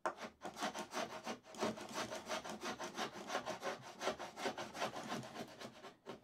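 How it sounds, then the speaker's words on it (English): A spokeshave takes fine cuts along the grain of a wooden piece, giving quick rhythmic scraping strokes, close and continuous with no talk. "And now I'm gonna come back in with that spoke shave."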